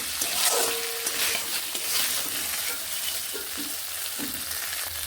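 Potatoes and spices fry in a pan with a steady, bright sizzle, broken by a few scraping stirs, close and continuous without talk.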